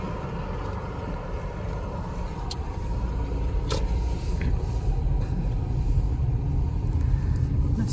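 A car drives on a road near Vladivostok in mid-August, its engine and tyre rumble steady and close throughout, with a couple of faint ticks and clicks inside the cabin.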